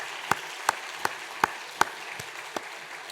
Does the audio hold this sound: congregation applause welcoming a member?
yes